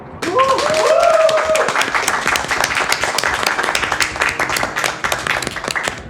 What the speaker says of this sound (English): I'm here for my clap. One clap, please.